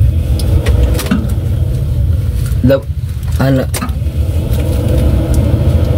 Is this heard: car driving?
yes